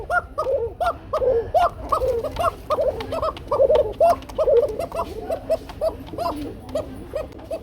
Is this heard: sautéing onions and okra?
no